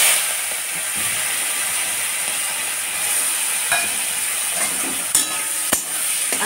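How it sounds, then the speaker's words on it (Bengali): Salted, turmeric-coated shrimp frying in oil in a kadai, a continuous close sizzle and hiss with a few sharp clicks and pops toward the end. "এবার আমি চিংড়ি মাছটা ভেজে নিব।"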